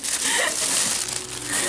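Layers of gift wrapping paper are torn and crumpled during a Christmas unwrapping, a continuous close crinkling and rustling with brief louder tears.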